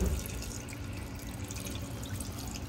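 Water pours steadily into a cooking pot holding fish for a coconut-milk tuna stew, a continuous broadband splashing rush with a slightly louder onset, close by and without talk.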